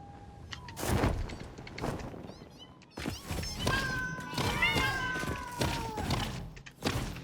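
Creatures in the video game Satisfactory being fought, with impacts, squeals and whooshing effects in bursts and swells, close and busy, and a person speaking in places.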